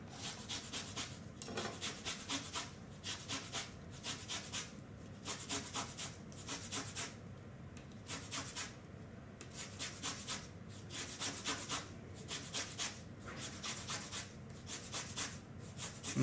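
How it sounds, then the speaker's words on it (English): An orange is zested in a kitchen while gluten-free fig newtons are made, giving a steady series of rhythmic scraping rasps, close and fairly quiet, with no speech. "we have to get the zest of an orange"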